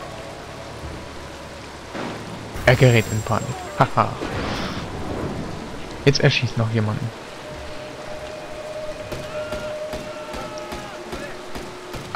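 Steady rain hisses as a constant wash in the video game Mark of the Ninja, running under excited talk throughout, with louder in-game effects breaking through midway.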